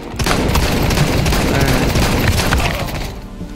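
Rapid gunfire in Counter-Strike: Global Offensive crackles loudly and continuously, with dense overlapping shots filling nearly the whole stretch before tapering off at the end.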